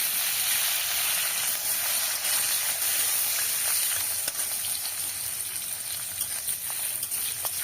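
Garlic and green chilies sizzling in hot mustard oil for mustard greens bharta, a steady close hiss of frying that runs evenly throughout with faint stirring.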